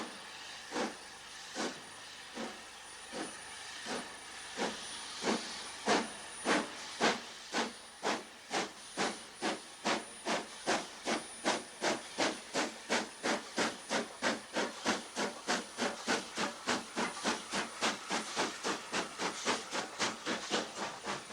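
A preserved steam locomotive labours up the 1 in 49 climb from Grosmont to Goathland, its exhaust beats sharp and regular, quickening gradually and growing louder as it draws nearer, with a steady hiss beneath.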